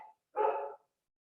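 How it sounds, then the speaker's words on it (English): A dog outside gives one short, clear bark, preceded by a brief faint fragment of another bark, then silence. "do you hear the dogs?"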